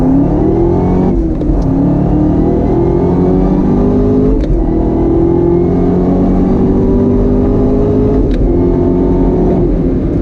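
A 2019 Chevy Camaro ZL1 engine revs loudly and climbs in pitch as it accelerates in first gear, heard close up, with brief shifts in tone along the way.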